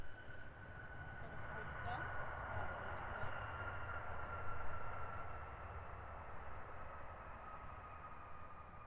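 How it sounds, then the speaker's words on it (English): Qantas Boeing 737 arriving at Christchurch Airport, a soft distant jet whine with a steady high tone over low rumble, faint and even throughout. "Gorgeous arrival from the Qantas 737"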